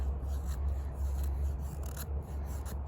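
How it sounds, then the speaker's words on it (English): A SteelWill Druid205 knife shaves thin curls off a piece of wood, a close, steady rasping scrape over a low background rumble with no talk. "it's doing some real thin shavings too"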